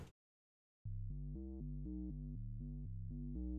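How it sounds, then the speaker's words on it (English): A deep synth bass plays a steady sequenced line of short repeating notes through a polystep sequencer, clean and prominent, starting after a brief silence. "So the bass sounds like this."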